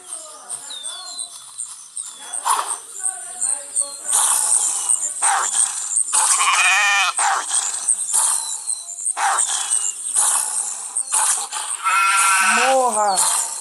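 Sheep bleating in The Wolf video game, with repeated wavering bleats coming in short bursts over loud, busy game noise, and a voice talking at times.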